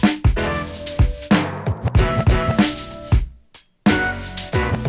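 Instrumental B-side from a hip-hop 12-inch: punchy kicks, snares and hi-hats under layered melodic stabs, with a brief drop near the end before the beat returns, loud and alone.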